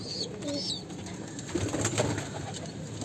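Pigeons coo softly and close by inside a coop, low throaty calls repeating over a quiet background with faint rustling and a few higher chirps.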